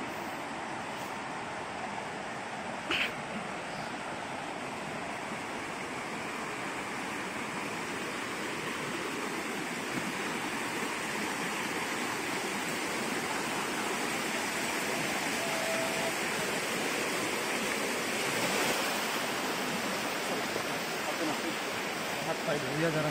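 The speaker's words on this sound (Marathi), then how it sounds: "बाजूला छोटी नदी जाते, तिथे जाऊन आपल्याला पाय धुवून यायचं आहे" A small river flows beside a temple, giving a continuous broadband rushing wash of water, steady and moderately loud with no break.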